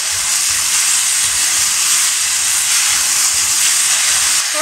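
Chili peppers and pork belly hiss loudly as they are stir-fried over high heat with a sauce, a steady, close, unbroken roar of sizzle and steam with no talking.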